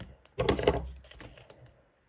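A piece of adhesive tape is torn off the roll while a paper birthday invitation is being made; one short, raspy ripping burst is followed by a few faint handling taps, close by and without talk.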